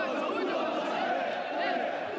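Football fans chanting together in a stadium, a dense and steady roar of many voices that stays constant throughout.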